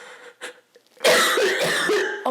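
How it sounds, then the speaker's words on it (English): A woman coughs close to the microphone, a couple of small throat sounds followed by a loud, harsh burst of coughing lasting about a second. "I'm sorry for my audible coughs"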